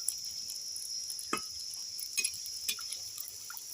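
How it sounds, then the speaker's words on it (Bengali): Semolina masala puris deep-fry in hot oil with a faint, steady high hiss broken by sparse crackles and pops. "সুজির মশলা পুরিগুলো ভেজে নিচ্ছি।"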